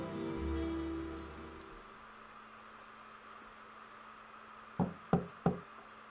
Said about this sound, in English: Let's knock and enter.